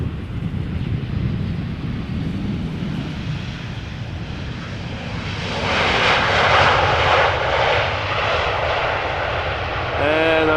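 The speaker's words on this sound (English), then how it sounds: "After that we are going to see an Embraer 190 from KLM arriving from Dublin." A KLM Embraer 190 jet airliner arriving at Amsterdam Schiphol Airport, its engine roar steady at first, then swelling into a loud, broad rush as it passes close, with wind buffeting the microphone.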